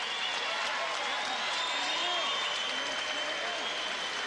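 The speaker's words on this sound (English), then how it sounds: "may we have a nice round of applause for both of these fighters" Arena crowd applauding both boxers after a professional fight ends by ninth-round stoppage in Detroit, a steady dense wash of clapping with some crowd murmur and a voice over the top.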